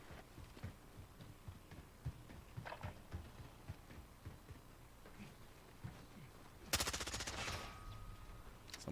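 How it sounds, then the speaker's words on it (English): Gunfire in the survival video game Rust: scattered faint thumps give way to a sudden loud burst of rapid shots near the end, with a brief ringing tone. "Someone's shooting at me"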